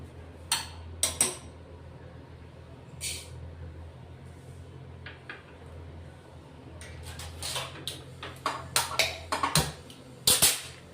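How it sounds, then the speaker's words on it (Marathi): Sesame seeds roasting in a dry pan, the same one used for peanuts, crackle and pop in scattered sharp bursts, sparse at first and then more rapid near the end, close by with no talking. "तीळ भाजताना काळजी घ्यायची, उडू शकते तीळ, म्हणून चांगले असे तडतड तडतड उडेपर्यंत तीळ भाजून घ्यायची"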